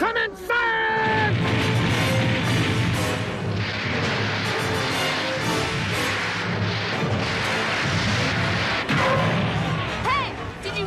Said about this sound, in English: Starboard cannons! Come and fire!